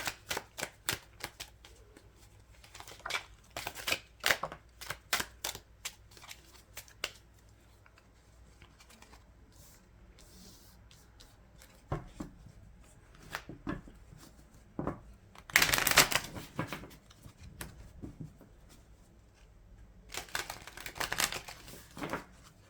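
A deck of tarot cards is shuffled up close in quick bursts of dry, papery riffling and slapping, with quiet pauses between the bursts and a sharp flurry near the middle.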